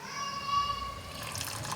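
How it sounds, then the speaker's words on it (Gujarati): Buttermilk is poured into spinach and corn dhokla batter, a brief, faint liquid trickle that splashes and rises for under two seconds. "તો હું થોડી છાશ ઉમેરી દઈશ"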